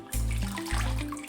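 Fava bean and pea pods drop into a large pot of water with a quick run of close splashing and sloshing, a couple of pulses over a short moment, no talking.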